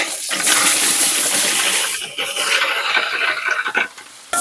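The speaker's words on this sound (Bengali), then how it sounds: "তেলটা গরম হয়ে গেছে, এবার দিয়ে দেবো আলুটা।" Potatoes dropped into hot oil in a village kitchen, giving a loud, dense hiss and crackle that swells at once, eases midway, then surges again in bursts, with no talking.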